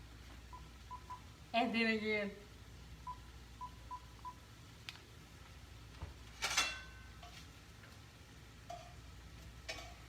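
A phone keypad in a home kitchen sounds several short dialing beeps in separate bursts, close and fairly quiet, while someone speaks briefly and kitchen clatter is heard.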